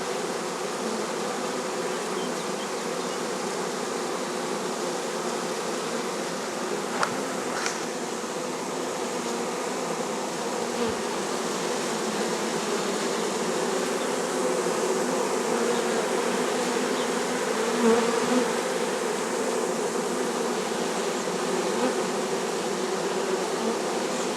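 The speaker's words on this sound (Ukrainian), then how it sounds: "І настав цей момент бджоли масово почали заходити в вулик." A honeybee swarm moves into a beehive with a dense, continuous buzzing drone that holds steady from start to finish, close and fairly loud, with no voices.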